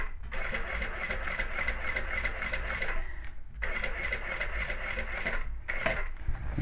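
Sewing machine stitching a handbag seam, running in steady rapid mechanical bursts with brief pauses between runs, close and fairly loud with no talking.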